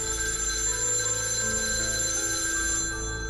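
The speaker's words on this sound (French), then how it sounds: "le téléphone sonna." A telephone rings with a steady, continuous bell-like trill of bright harmonic tones, moderately loud and alone, fading slightly near the end.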